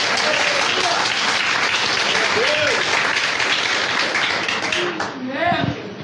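A church congregation applauds during a sermon, a dense, loud, sustained wash of clapping that tapers near the end as a voice speaks over it.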